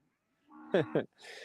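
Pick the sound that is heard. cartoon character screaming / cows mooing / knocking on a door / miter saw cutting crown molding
cows mooing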